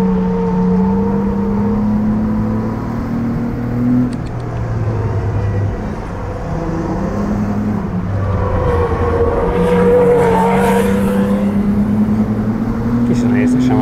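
A BMW M4 or a Ford Mondeo ST220 laps a race track, its engine droning steadily with rising and falling revs through a chicane, heard from inside the car under ongoing talk.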